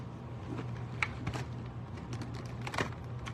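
Someone types on a computer keyboard in a quiet room, a loose run of soft keystroke clicks with a few sharper taps and brief pauses.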